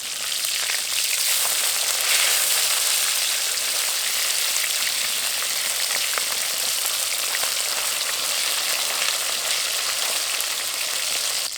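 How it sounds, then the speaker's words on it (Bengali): Fish frying in hot mustard oil in a pan, a dense, steady bright sizzle and crackle that holds evenly throughout with no talking. "সরষের তেল খুব ভালোভাবে গরম হয়ে গেছে, এবার মাছগুলো দিয়ে ভেজে নেব।"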